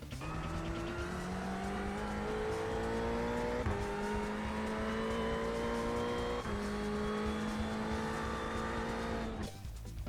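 A Ferrari 488 GT3 race car laps Summit Point, its engine loud and close, rising through gears in repeated climbing pulls with brief shift breaks, then cutting off abruptly near the end.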